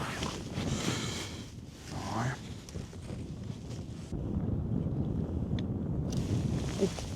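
Gusty wind buffets the microphone outdoors during winter fishing with a steady low rumble, rising louder partway through, with brief voices mixed in.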